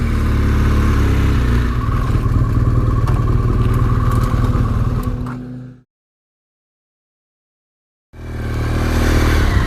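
BMW R1200GS motorcycle ridden on the Scottish Western Isles, its engine droning loud and close for several seconds before cutting to silence, then the engine returning.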